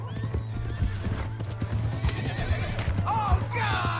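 Horse hooves clip-clop at a gallop with loud whinnies and neighs near the end, in the Western video game Red Dead Redemption, over a steady low engine-like hum with faint voices.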